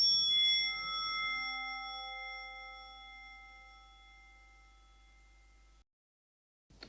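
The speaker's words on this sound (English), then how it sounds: "Another Fibonacci series, more bell-like." Bell-like synthesized tones built on a Fibonacci series of frequencies strike together, then ring and decay slowly over several seconds, fading out before a short silence and a small click.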